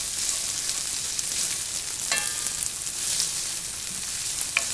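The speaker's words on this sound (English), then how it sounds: "Okay, so my onions have been browning for the past few minutes" Diced red onions and green chilies fry in a pan of hot oil for a Punjabi chole masala, giving a steady close sizzle throughout with a couple of brief sharper crackles and no talking.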